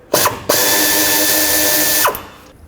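A power tool running a 10mm socket zips a bolt out of the oil dipstick tube on a Chevrolet Express van, with one short burst and then a longer steady whir of about one and a half seconds, loud and close with no talking.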